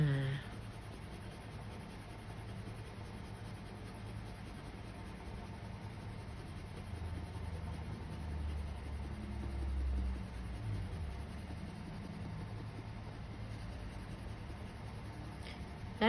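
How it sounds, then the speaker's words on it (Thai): Colored pencil shading red toward orange on paper for an art lesson on color gradation, a soft continuous scratchy rubbing that runs steadily and close throughout with no talk. "ก็ระบายสีแดงเข้าหาสีส้มนะคะ"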